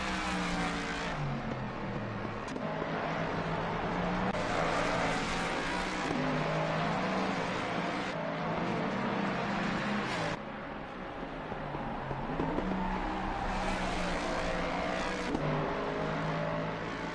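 Ford Mustang race cars lapping Brands Hatch, a continuous engine roar that rises and falls as cars accelerate and pass, steady and fairly loud with no talk.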